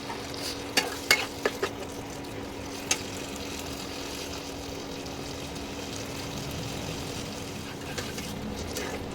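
Mutton curry fries in oil in a pan while being stirred, a steady soft sizzle throughout with a few sharp utensil scrapes and clicks near the start and no voices.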